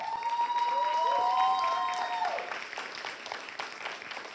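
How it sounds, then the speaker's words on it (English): Audience applause at a university Umoja celebration in Tacoma, a steady wash of clapping that holds for about two seconds and then thins out. A bright sustained tone rides over it early on, and the clapping tails off toward the end. "Nedra, Sarah, and Gabe, please stand and receive a round of applause."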